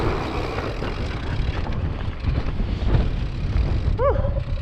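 Gusty wind buffets the microphone on a rocky winter canyon trail, a steady low rumble that swells and dips, with a brief squeaky creak near the end.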